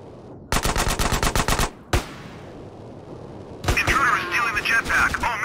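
Machine gun fire in GTA San Andreas during a military base mission: a rapid burst of automatic shots, one sharp single shot, then another sustained volley. Everything sounds loud and close, with game sound effects mixed in.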